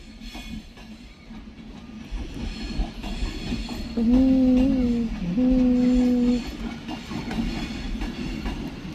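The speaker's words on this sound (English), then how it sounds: "now departing is 390-005 with the 1415 Avanti Westcoast service to London Euston via Stockport" Avanti West Coast class 390 unit 390-005 departing Manchester Piccadilly for London Euston, a low rumbling rail roll with a two-part tonal horn or whine mid-clip, fairly quiet and without talk.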